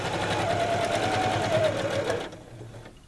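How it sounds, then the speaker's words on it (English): A sewing machine runs steadily while stitching along the edge of an apron, a close, continuous motor hum that stops abruptly near the end. "Continue taking out pins and sewing"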